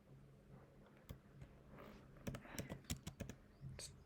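Quiet, close keystrokes on a computer keyboard, irregular clicks clustering into a faster burst toward the middle, with faint room hiss between them.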